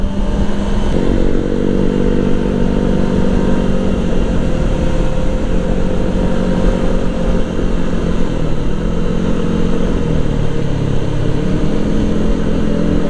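Motorcycle ridden through city traffic at sunset in low power mode, a steady loud engine drone with shifting pitch as the bike rolls on and slows, heard continuously up close with wind noise and no talk.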